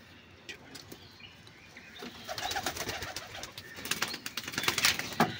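Madras pigeons, an old bloodline breed, give soft cooing and chirping calls that thicken in the second half, with some wing movement and a low background hum. No one speaks.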